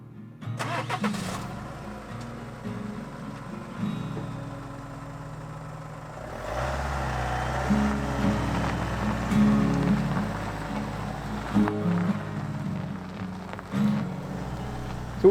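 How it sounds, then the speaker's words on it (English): A car engine starts and the car pulls away, heard close from inside after a field photography outing, with a steady driving rumble under rain-like patter; one vehicle, no talk. "jumped in my car, started driving back"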